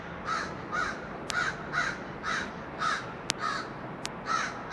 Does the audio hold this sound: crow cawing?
yes